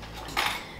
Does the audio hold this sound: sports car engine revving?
no